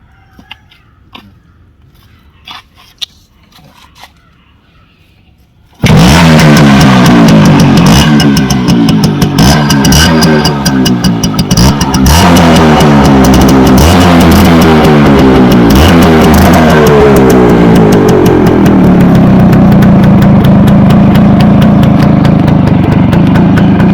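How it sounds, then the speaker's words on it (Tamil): A 2002 Max100 two-stroke motorcycle starts after quiet handling noises, then idles loudly and close with a raspy, pulsing rhythm, settling into a steadier idle near the end. "நான் உங்களுக்கு வண்டி ஸ்டார்ட் பண்ணி காமிச்சிடுறேன் ஒரு நிமிஷம்."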